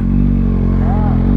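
A motorcycle fitted with an exhaust baffle runs loudly and steadily up close, a dense low engine rumble with a brief rising tone near the end and a voice mixed in.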